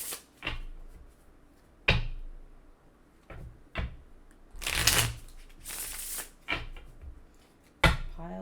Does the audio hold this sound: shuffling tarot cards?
yes